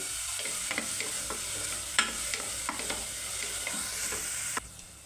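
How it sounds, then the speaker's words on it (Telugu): Sliced onions with a little salt frying lightly in a pan give a steady, close sizzle, broken by scraping clicks of stirring, before the hiss suddenly drops near the end. "ఉల్లిపాయ అనేది మరీ ఎక్కువ వేగాల్సిన అవసరం లేదండి, లైట్గా వేగితే సరిపోతుంది"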